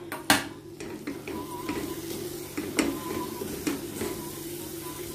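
Spice paste stirred into a pan of onions for a dhaba-style kathal aloo curry, with soft frying sizzle, a sharp clank of a utensil on the pan, then repeated scraping strokes at close range.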